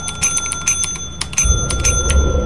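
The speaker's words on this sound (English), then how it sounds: "now put that in, and then you got to ring the bell like 20 times" A bell in the video game Lethal Company rung over and over in quick, irregular strikes, bright metallic dings repeating for the whole stretch with a low rumble entering partway through; no voices.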